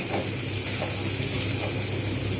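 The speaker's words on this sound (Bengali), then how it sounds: "চিংড়িগুলো কাঁচা গন্ধটা চলে যাবে তখন পর্যন্ত ভাজতে থাকবো" Prawns frying with spices in a pan for a Bengali prawn lentil dish: a steady, even sizzle with faint stirring scrapes, close and continuous, no talking.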